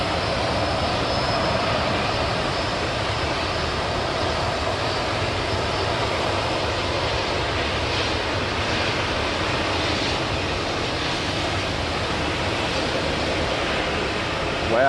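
Jet airliner taxiing past at Sydney Airport, a sustained broad engine roar and whine that holds steady at moderate distance for the whole stretch, without voices.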